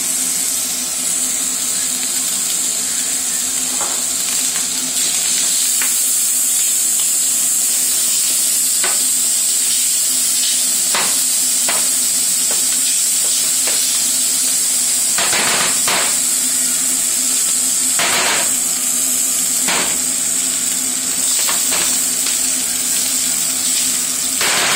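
Onions and garlic fry hard in a hot pot for pizza, a steady loud sizzle with frequent sharp pops and crackles scattered throughout, no voices.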